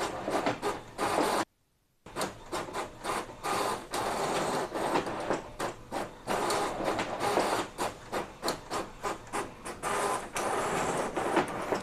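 An Epson L15150 inkjet printer runs through a speed test with a rapid, rhythmic series of mechanical clicks and whirring paper-feed passes, close up. A brief full silence interrupts the sound early on, and then the steady printing cycles resume.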